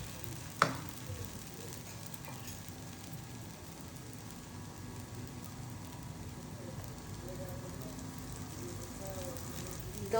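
Dosa batter sizzling on a hot pan, a quiet continuous crackle and hiss with a sharp clink near the start, low and steady throughout.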